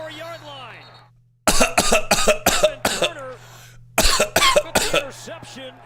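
A person imitates a coughing fit, a burst of rapid harsh coughs, a pause, then another series.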